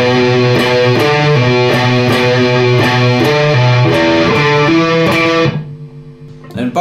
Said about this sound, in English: Okay, so bars 3 and 4 the riff sound like this.